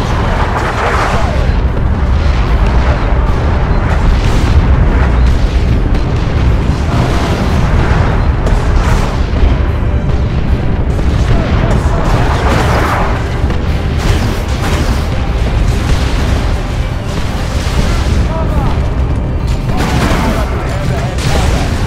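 Artillery barrage in Warhammer 40k Dawn of War 2 Chaos Rising, with loud, dense rumbling booms and bursts rolling continuously and layered under in-game voices.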